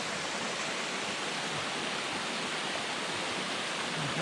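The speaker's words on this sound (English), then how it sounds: "We're walking up along Moose Brook." Moose Brook rushes steadily through misty woods near Ice Gulch, a dense, even wash of flowing water heard up close, with no talking over it.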